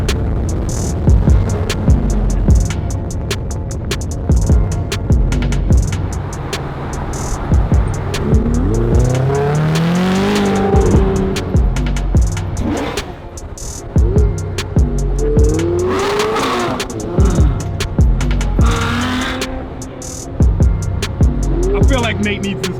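A Ferrari supercar engine revs hard and loud up close, rising and falling through several sweeping pulls over a steady roar, with voices talking underneath.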